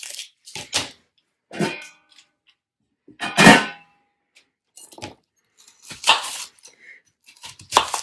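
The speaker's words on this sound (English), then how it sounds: "So the onions have to be diced." Onions are diced with a knife on a board in irregular bursts of sharp chopping taps separated by quiet pauses, with no voices present.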